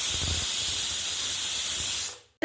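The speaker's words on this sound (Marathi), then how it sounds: "इथं मी कुकरच्या शिट्ट्या काढून घेते" Steam hissing steadily and loudly from a pressure cooker whistle on a pot of leafy-vegetable bhogi bhaji, continuous for about two seconds before cutting off abruptly.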